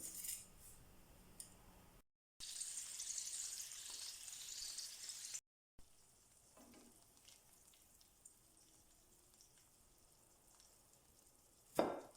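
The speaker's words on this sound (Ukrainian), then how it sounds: "І жаримо таким же методом наступні крила." Battered chicken wings fry in a pan with a steady soft sizzle that is faint and close, broken by brief gaps and a few light clinks, with no talking.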